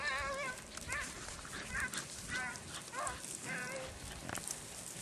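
Several dogs bark and yelp in the middle distance, in short scattered bursts across a noisy outdoor scene with steady background rumble and a voice or two.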